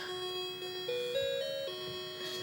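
A Harmony model doorbell plays its multi-note chime, a clear stepped melody of sustained tonal notes rising and falling over a couple of seconds, fairly loud and with no talking.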